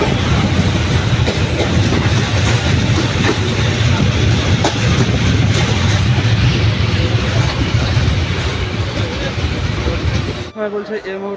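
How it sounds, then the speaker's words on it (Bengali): The 13104 Bhagirathi Express between Lalgola and Sealdah is heard from on board as it runs: a loud, steady, dense rumble of wheels and carriage noise that holds throughout, then drops away abruptly near the end. "আজকে আমি যে ট্রেনে জার্নি করছি সেটা হচ্ছে 13104 ভাগীরথী এক্সপ্রেস"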